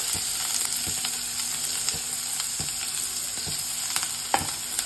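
Finely chopped onion sizzles in hot oil with spluttered mustard seeds, a constant close frying hiss with light scraping and stirring taps.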